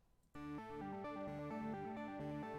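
A sustained, warm synthesizer pad chord swells in abruptly and holds steady, with notes shifting gently inside it.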